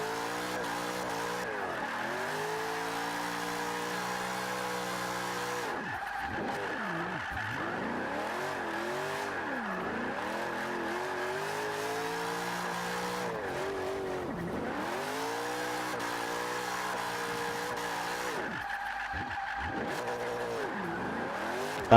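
Nissan Fairlady Z with a rear-wheel-drive drift build in Forza 5, its engine revving hard and continuously with repeated rising and falling pitch sweeps and tyre squeal as it slides, loud and steady with no talk.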